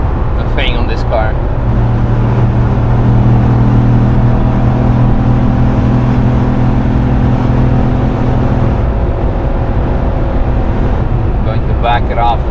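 A Corvette C6 Z06 engine drones steadily under load while cruising uphill in sixth gear, a loud continuous low hum with brief voices at the start and end.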